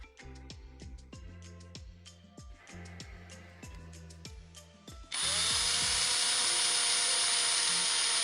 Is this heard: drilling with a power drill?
yes